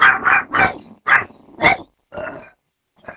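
Two tiny four-pound dogs barking in a home studio, a run of loud, close, high-pitched yaps in quick bursts that thin out to a couple of final yips.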